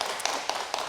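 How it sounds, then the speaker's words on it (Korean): A small group claps at a moderate distance, with a steady crisp patter and a few sharper claps standing out, and no talking over it. "야, 이럴 때 박수 한번 쳐요."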